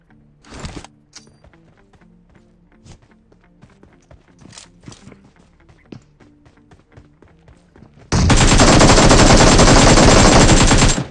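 Gunfire in the video game PUBG: scattered single shots and taps, then a loud continuous burst of automatic fire in the last three seconds, with no talking.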